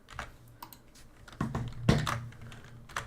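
Scattered keystrokes on a computer keyboard, close and fairly quiet, come in irregular taps and short clusters with a few heavier presses.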